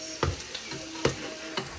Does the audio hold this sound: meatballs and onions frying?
yes